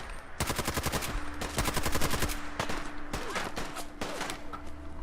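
Rapid automatic gunfire rings out in Fallout 4 as a raider is shot at, with dense bursts of shots spread over several seconds and no talk.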